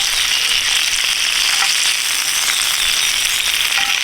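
Ribeye steak and shrimp sizzle on an Ooni Karu griddle plate, a steady, loud, close hiss of frying with faint crackles running throughout.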